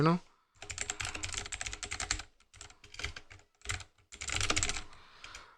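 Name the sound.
typing on a computer keyboard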